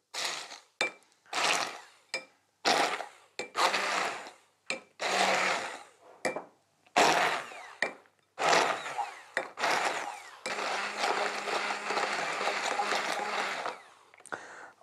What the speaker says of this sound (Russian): Пробиваю, как говорят повара, блендером вот эту массу хлебную.